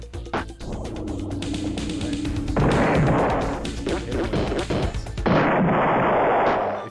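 Mycon ship in Ur-Quan Masters 2 firing shots, a series of loud, booming blasts and crashing impacts that come in heavy bursts over a continuous game rumble, with no talk.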